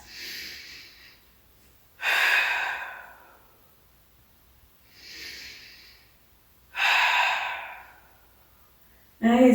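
Slow, deep breaths during a foam roller workout: two long inhales alternating with two broad, airy exhales, close and clear in a quiet room, with another breath beginning at the end.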